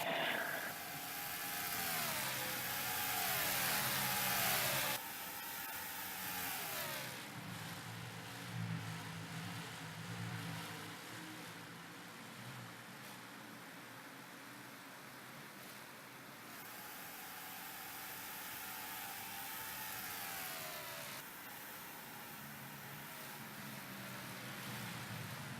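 Race car engines roar around the Trenton oval during an NROL Cup Series race, rising and falling as cars pass, with a continuous rushing drone throughout.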